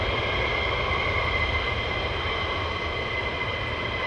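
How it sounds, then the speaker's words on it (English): Steady, even engine drone of a military jet taxiing out at RAF Lakenheath, a constant low rumble with a faint whine above it, held at a distance without variation and no talking. "Taxiing out now."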